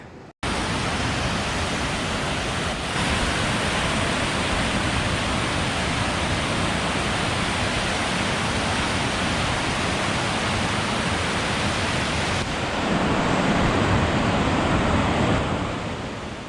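Loud, roaring rush of water pouring continuously at Mavoor Dam near Madurai, a dense broadband wash that swells slightly near the end, with no voices.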